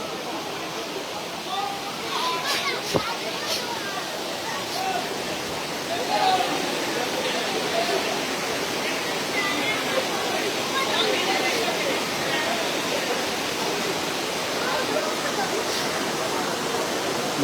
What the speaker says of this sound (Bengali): জলের স্রোতের আওয়াজগুলো আপনারা শুনতে পারবেন কিভাবে চলছে